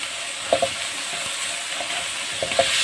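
Swanchai greens sautéed with garlic and sizzling in a hot pan, a steady bright crackling hiss with a few soft stirring knocks, close and even throughout.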